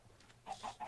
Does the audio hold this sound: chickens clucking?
yes